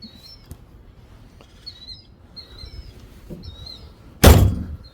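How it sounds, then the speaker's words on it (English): A single solid thunk as a Buick car door shuts, loud and close, with birds chirping faintly beforehand. "Listen to that door."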